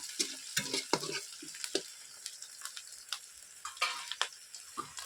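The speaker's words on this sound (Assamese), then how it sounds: "ইয়াত একো মছলা নিদিওঁ, খালি এটা ভাজি থাকিম।" Meat fries with no spices in a pan and is stirred with a utensil, giving a quiet sizzle broken by frequent sharp scraping clicks at an uneven rhythm, close by and with no talking.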